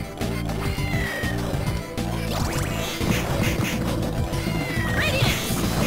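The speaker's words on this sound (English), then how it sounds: "if you heard that in the background, there's another cat here somewhere." A cat meows several times in Castlevania: Order of Ecclesia. The mewing rises over loud, busy game music and effects, and no one speaks.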